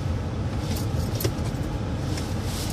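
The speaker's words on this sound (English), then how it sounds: "I'm not gonna turn my car off because it's cold. I ain't turning the car off." A car engine idles steadily in a parking spot on a cold, snowy day, a low continuous rumble close by with no talking.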